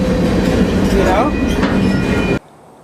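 A freight train rolls along the rails with loud, close rumbling, clattering wheels and a faint squeal, then the noise cuts off sharply near the end.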